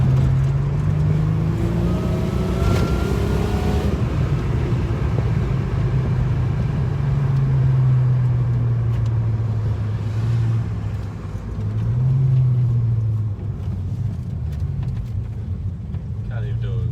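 A boosted car engine, turbocharged or supercharged, roars at full throttle in a loud, sustained drone with rising and falling pitch, while people talk over it.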